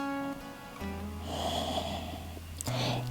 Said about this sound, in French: Encore 5 respirations.